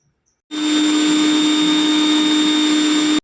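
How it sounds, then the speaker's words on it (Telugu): A mixer grinder runs steadily and loudly for about three seconds with a high motor whine, grinding chopped red onion and amla into a paste for a homemade hair treatment. "ఇప్పుడు మిక్సీ పట్టుకోవాలి"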